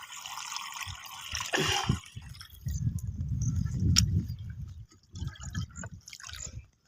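Liquid is poured into a container while Rice Max herbicide is mixed for a rice field, coming in close splashing bursts with drips and a brief metallic rattle, separated by short pauses, with no voices.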